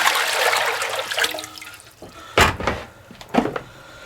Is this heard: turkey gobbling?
no